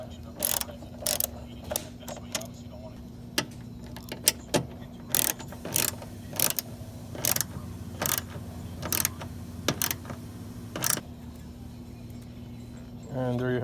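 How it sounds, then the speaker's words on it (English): A ratchet clicks in short, evenly spaced bursts as bolts are tightened while a front passenger-side headlight is installed on a Hyundai Veloster. A low steady hum runs underneath. "Make sure all bolts are tight."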